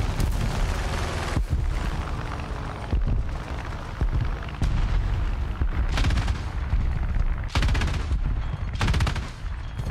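Tank cannon shots in a World War II–era video game, a series of heavy booming blasts fired every second or so over constant battlefield rumble and scattered gunfire, loud and close.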